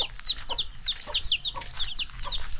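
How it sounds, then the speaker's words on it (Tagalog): Chickens cluck repeatedly close by, a busy string of short, sharp calls overlapping against a soft background. "Ayan yung mga manok mga lolo. Medyo gising na sila."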